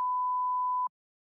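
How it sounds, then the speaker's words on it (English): A single steady censor beep, a clean pure tone held for just under a second before cutting off abruptly into silence. "To add a beep sound, go to the audio section and search for beep."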